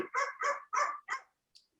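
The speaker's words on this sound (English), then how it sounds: "excuse me for the dog" A dog barking indoors, five quick, sharp barks in an even rhythm followed by a faint short yelp, fairly quiet and heard alone without talk.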